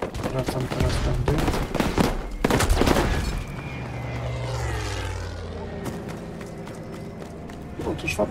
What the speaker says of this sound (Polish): Wali do mnie samolot